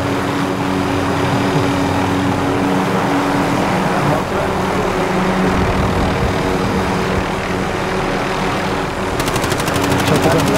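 A helicopter's spinning propeller in Call of Duty Warzone gives a loud, continuous mechanical roar and chop that stays steady throughout, joined by rapid clicking near the end.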